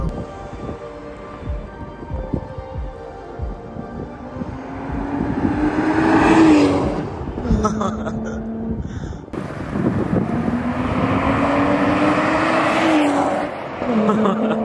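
A loud, raw 2023 Toyota GR Supra 3.0 engine without a muffler roars and rises in pitch twice, with a harsh rasping tone and some brief voices in the background.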